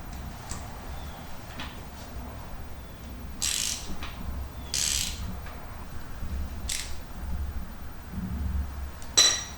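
A ratchet wrench loosens bolts on a 2019 Honda Monkey motorcycle during an oil change, with a penny wedged in to stop the gears spinning. A few short, sharp bursts of ratcheting clicks come at irregular moments over a quiet background hum.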